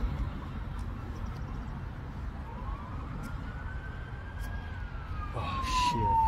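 Police car siren rising and falling from a moderate distance through steady street noise outdoors, growing louder and closer toward the end as a pursuit of several police cars unfolds.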